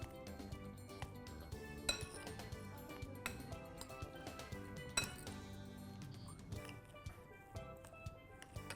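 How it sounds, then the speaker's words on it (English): Spoon clinking against a bowl while vada filling is stirred with lemon juice, with irregular close taps and scrapes over quiet background. "we're going to just mix it all well"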